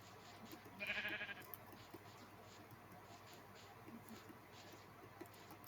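A sheep in the video game Minecraft gives a single short bleat near the start, faint against a quiet, steady game background.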